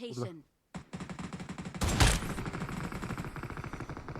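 Video game gunfire erupts as a rapid automatic burst after a brief pause, sustained rattling shots that swell in the middle, heard alongside players talking.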